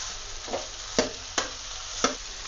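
Finely chopped cabbage fries in a pan, a steady close hiss broken by four sharp scrapes of a spoon stirring it.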